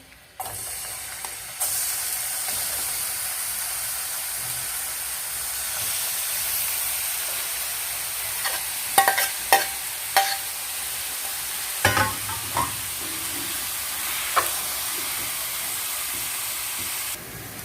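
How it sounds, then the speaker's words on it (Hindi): Chicken frying in hot ghee gives a steady broad sizzle from start to end, with a few sharp clinks and scrapes of a utensil against the pan partway through. "घी गर्म है, आप इसमें चिकन डाल देंगे सबसे पहले।"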